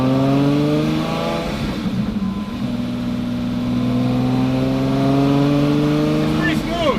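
The rebuilt Lamborghini movie car from Fast & Furious idles with a steady, loud engine drone that rises briefly as the throttle is revved, then settles again. Someone talks over the engine.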